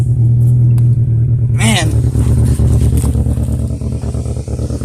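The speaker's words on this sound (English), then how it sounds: "That's a dead engine." A 2002 Toyota Corolla LE with a bad motor runs roughly, its loud, uneven engine drone shuddering steadily throughout while someone talks over it.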